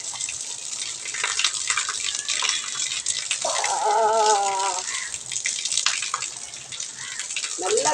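Water flows and splashes steadily during an outdoor bath taken fully dressed, a continuous gushing wash in the foreground with a person's voice briefly heard over it.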